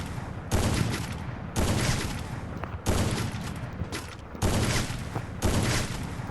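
Sniper rifle shots in the mobile battle game Free Fire: five loud, evenly spaced cracks about a second apart, each followed by a short decaying tail, close and clear with no voices.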